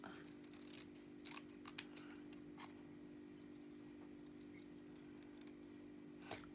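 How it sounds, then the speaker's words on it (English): Scissors snip out a small paper word for a junk journal, a few faint, close crisp cuts spaced irregularly over a quiet background hum. "Let's cut that little word out"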